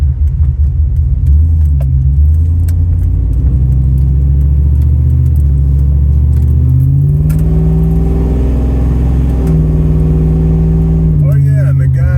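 A 1999 Dodge Dakota R/T truck cruises with a loud, deep engine rumble that rises and falls in pitch as it shifts. Someone talks over the engine throughout.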